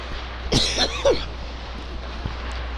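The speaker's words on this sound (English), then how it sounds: "Sorry about the cough." Two short, sharp coughs in quick succession, fairly close, over a steady low background hum, followed by a faint click.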